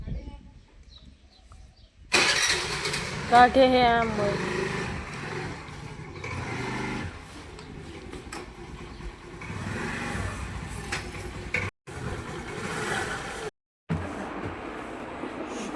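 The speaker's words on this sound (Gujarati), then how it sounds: "મમ્મી હવે એક્ટિવા કાઢે" A Honda Activa scooter is brought out, its small engine starting with a brief whine and then running steadily as it rides off, with outdoor traffic noise and a few short words from a woman.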